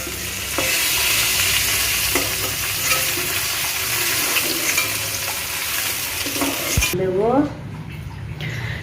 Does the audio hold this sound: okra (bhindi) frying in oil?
yes